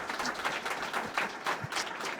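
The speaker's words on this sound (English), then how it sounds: "Can I get a round of applause, please?" An audience at a talk on philanthropy and leadership applauds, a dense continuous patter of clapping throughout the short stretch.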